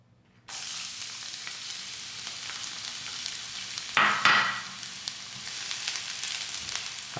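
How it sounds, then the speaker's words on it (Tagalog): Garlic and onion hit hot oil in a pan for pork menudo, a sudden sizzle starting after a moment of quiet, holding steady, with a louder crackling surge around the middle as more is added or stirred. "Una kong igigisa yung bawang at yung sibuyas."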